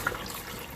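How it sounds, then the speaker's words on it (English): A toilet flushes in a short burst of rushing, gurgling water, close and fairly loud with no talk. "You hit the flush."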